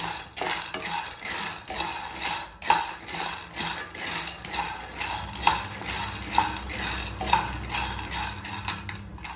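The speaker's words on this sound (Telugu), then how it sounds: "1 కిలో శనగలు అంటే పల్లీలండి, వేసుకుందాము. వేసి మంచిగా వేయించుకుందాం" Peanuts roast in a pan while being stirred, giving a rhythmic run of dry scraping and rattling strokes with a few sharper clinks, close by and without talk.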